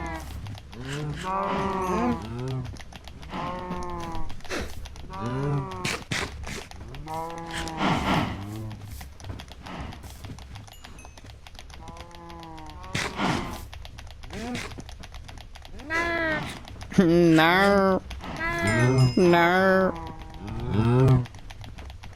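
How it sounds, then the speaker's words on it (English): Baby cows in Minecraft moo repeatedly in short, bright, wavering calls from several animals, overlapping at times, with keyboard clicks and occasional brief speech mixed in. "I love the sound the baby cows make."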